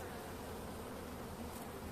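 Anatolian honeybees humming steadily at an open hive during the late-winter inspection, a dense continuous drone close by with no pauses and no voices.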